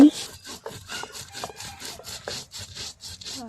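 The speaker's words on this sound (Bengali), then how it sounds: "এখন বিরিয়ানির জন্য শিলপাটায় একটু জিরা আদা রসুন বেটে নিব তো সাথে একটু পেঁয়াজও বেটে নিব" Cumin, ginger and garlic being ground for biryani on a flat stone slab with a grinding stone: a close, rhythmic series of rough scraping strokes with short pauses between them.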